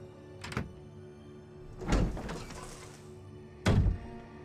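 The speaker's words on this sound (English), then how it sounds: "I can hear them like banging against my window right now" Acorns falling at an angle bang against a window, giving three separate hard thunks spaced a few seconds apart, fairly close and distinct over a quiet indoor background.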